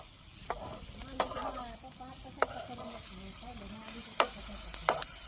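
Hot oil spattering and sizzling in a pan while Maggi noodles are cooked at a kids' party, with a steady fry hiss broken by sharp pops and clinks, and faint voices in the background.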